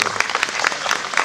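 Applause from a concert audience for the soloists of a parish brass band, a short burst of dense, close clapping with no voices.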